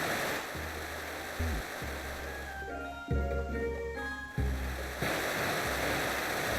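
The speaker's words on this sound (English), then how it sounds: "Go up the waterfall here." Rushing water effect from surfing up a waterfall in Pokemon SoulSilver, a steady wash of noise with low chiptune-style tones and music layered over it, fairly loud and continuous.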